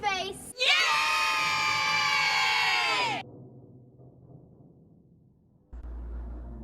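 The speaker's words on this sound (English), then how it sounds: "all the live reactions to the trailer got a big cheer when she said it" Live audience at a trailer reveal for a Silent Hill 2 remake erupting in a loud, dense cheer with shouts and whoops for about three seconds, then dropping away to quiet murmur.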